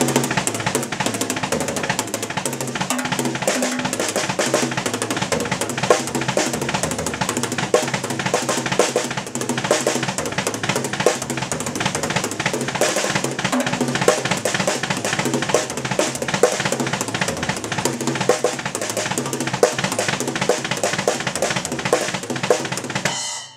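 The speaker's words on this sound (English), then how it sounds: "start up here and just do those just back and forth and really bounce around drums" A drummer plays a warm-up, bouncing rapid strokes back and forth between drums in a steady stream of hits, loud and close, with cymbal wash throughout and no talking.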